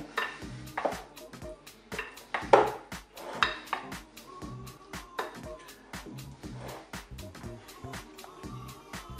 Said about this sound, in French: Alors, on mélange délicatement.